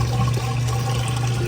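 Sidekick baby washer, a small pedestal unit beneath an LG front-load washer, draining water with a steady rushing gurgle and a low continuous pump hum, close and fairly loud.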